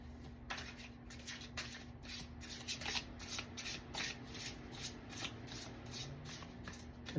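Tarot cards being shuffled in quick, repeated bursts of riffling and rubbing, steady and close, over a faint low hum with no talking.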